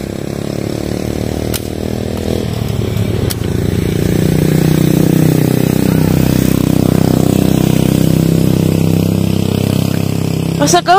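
A motorcycle engine runs loud and close, its hum rising and holding steady for several seconds, with voices audible over it.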